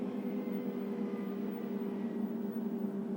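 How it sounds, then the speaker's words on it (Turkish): Bus engine droning steadily as the vehicle drives itself along a mountain road in Bus Simulator Ultimate, a constant mid-pitched hum with road noise and no talk. "Şu an otobüs kendi gidiyor."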